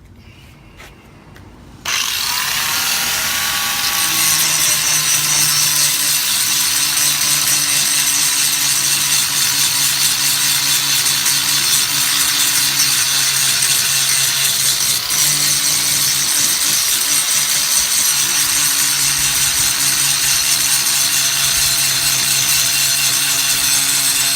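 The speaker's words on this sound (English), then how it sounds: "the bumper's rusty as shit. So let's grind that off real quick." An angle grinder without a guard grinds rust off a car bumper, a loud, steady, continuous whine and rasp that starts abruptly after a quiet moment and holds unbroken, close up, with no talking.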